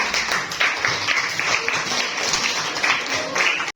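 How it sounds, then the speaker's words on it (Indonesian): A classroom breaks into clapping for a student, a brief round of many hands that stays fairly steady for a few seconds before stopping abruptly at the end. "Tepuk tangan untuk Sarifah."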